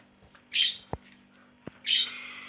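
A budgerigar squawks twice from inside its nest, two harsh, close, moderately loud calls with a couple of small knocks between them.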